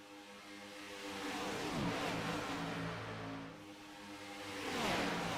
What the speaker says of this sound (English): Listening to the sounds of the cars right now, folks.